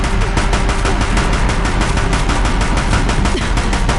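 Deathbringer machines in Horizon Zero Dawn fire a loud, unbroken barrage of rapid machine-gun bursts that continues steadily, dense and close, with no voices.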